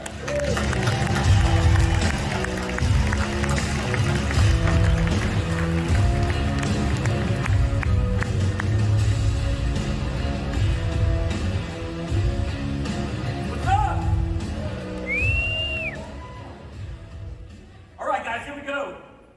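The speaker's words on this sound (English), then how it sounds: "let's go ahead and give a huge round of applause for Dan Beer!" An audience applauds and cheers for a speaker being introduced at a real estate business event, with sustained dense clapping and crowd noise for most of the stretch, mixed with voices, before tapering off near the end.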